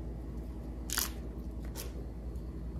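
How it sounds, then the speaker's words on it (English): A knife slicing through a crunchy peach from a garden harvest, giving two short crisp cuts about a second apart, close and fairly quiet over a steady low background hum. "Let's slice this peach."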